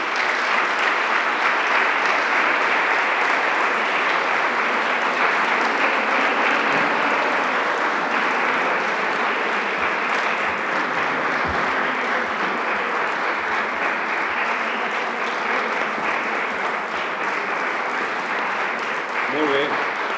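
Long, steady audience applause at the Garriguitar guitar competition (Emili Pujol contest) as the three jury members come up on stage, a thick continuous clapping that carries on for about twenty seconds with little change in level.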